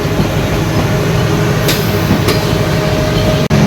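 Loud, steady rumbling roar of the Chitra Express and Simanta Express passenger trains rolling past nearby at Poradaha Junction, continuous throughout with faint rattles and a brief squeal.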